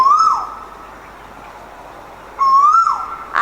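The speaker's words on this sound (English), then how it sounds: "I'm sure you must have guessed the beautiful song of this bird, the cuckoo bird." A cuckoo calls twice with a clear two-note song, a gap of about two seconds between the calls, each loud and near and alone without talk.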